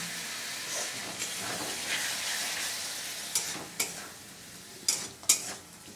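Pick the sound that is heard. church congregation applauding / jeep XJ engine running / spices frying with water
spices frying with water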